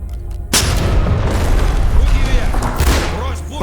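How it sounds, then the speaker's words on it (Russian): A C2 breaching charge set under a door in the tactical shooter Ready Or Not detonates with a sudden loud boom, followed by a dense, rumbling blast that stays loud for several seconds. "Си-2 – взрывчатка, которая ставится под дверь."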